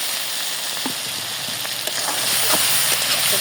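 Tomato goes into a spice paste frying in a pan, giving a steady close sizzle and crackle with a few soft stirring clicks, with no talking.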